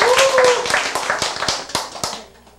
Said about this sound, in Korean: 박수로 열도록 해주시기 바랍니다